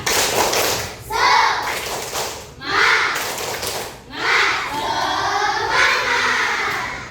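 Children in a fourth-grade classroom clap in a rhythmic pattern in bursts, with young voices chanting along between the claps in a room.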